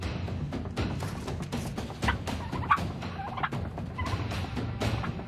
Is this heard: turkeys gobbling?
yes